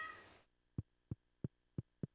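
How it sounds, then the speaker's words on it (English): A cat in the farming video game Stardew Valley gives five short, soft meows at a steady pace after a brief burst of game sound, each one clipped and clear against near silence. "Look, it's my cat."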